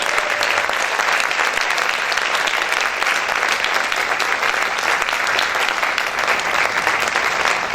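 Loud, dense applause from a church congregation during a service, a steady roar of clapping hands filling the room without a break and with no talking over it.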